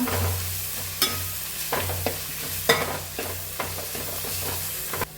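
Chicken frying in oil in a pan with chili flakes for a Kerala-style chicken dish. Steady close sizzling runs throughout, broken by regular scraping stirs about every half second, with no voices.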